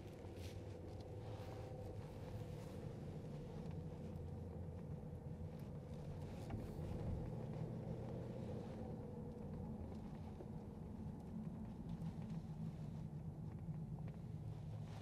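A 2002 Ford Thunderbird's engine pulls as the car accelerates, giving a low, fairly quiet and steady rumble heard from inside, with no speech.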